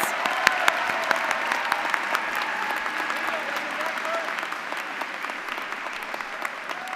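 Steady audience applause at a 2022 university student recognition awards ceremony, a dense crowd clapping continuously for the full stretch with some murmur of voices beneath.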